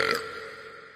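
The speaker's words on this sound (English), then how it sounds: "It's how I feel when I burp really loud in an underground parking structure to assert my dominance." A loud, close burp in a cartoon, one resonant voiced belch lasting about a second and tailing off slowly.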